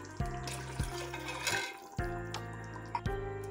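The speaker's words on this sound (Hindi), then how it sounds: "अब हम पानी ऐड कर लेंगे।" Water is poured from a glass into a pressure cooker pot of rice for chicken pulao, several fairly loud splashing pours in a row, close by, with no talking.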